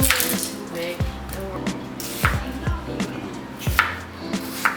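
Onions chopped on a cutting board, a series of close knife thuds at an uneven pace over a wet, crackling background.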